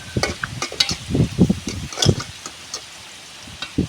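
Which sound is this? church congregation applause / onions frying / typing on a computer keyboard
onions frying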